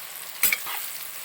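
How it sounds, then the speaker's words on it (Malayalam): Chopped medium onions just added to hot mustard oil for an Assamese pork curry give a brief sharp crackling burst, then settle into a steady hissing fry. "ഇതിലോട്ട് 4 മീഡിയം സൈസ് സവോള ചെറുതായിട്ട് അരിഞ്ഞത് ഇട്ട് കൊടുക്കുന്നു."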